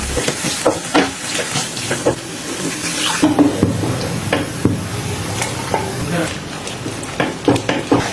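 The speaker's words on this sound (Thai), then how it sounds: "พอผัดไปสักพักแบบนี้ก็จะเติมน้ำค่ะ" Curry paste and blanched vegetables stir-fried for a mushroom curry in a pan, close sizzling and scraping that shifts to a pouring, splashing rush as water is added, with someone talking throughout.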